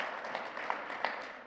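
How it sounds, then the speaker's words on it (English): A small audience claps for two speakers, a chief executive and a colleague, just after they are introduced at a First Friday event. The clapping is faint and scattered, with a few sharper claps standing out over a soft room hum. "How nice, they get a clap before they even start."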